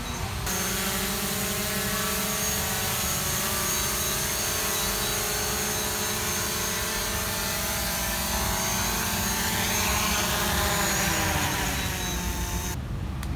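A mapping drone hovers and descends to land, its propellers giving off a steady, loud mechanical buzz that holds almost unbroken throughout.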